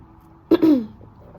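A single short burst of a cough or throat-clear from a woman right after laughing, close and sharp, with a second rough exhalation following quickly, then quiet.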